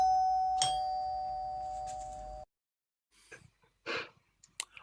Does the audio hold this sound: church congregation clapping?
no